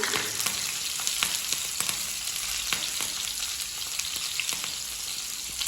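Green chilies and beans frying in hot oil in a pan give a loud, continuous sizzle with small crackles popping throughout, close and unbroken by any talk.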